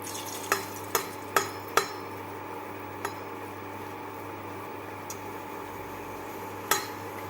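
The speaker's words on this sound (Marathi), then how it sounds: "तेल तापलं आहे आता आपण तळून घेऊ" Anarse, a sweet rice snack, frying in hot oil: a low steady bubbling hiss broken by a few sharp clinks of a utensil against the pan, close by and with no talking.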